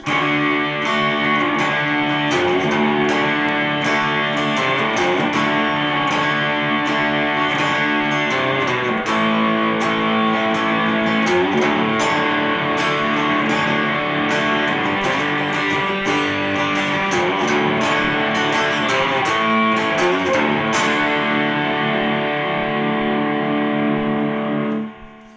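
Distorted electric guitar plays the verse riff of a song, loud and close, with continuous chugging chords and picked notes and no voice over it, ending abruptly.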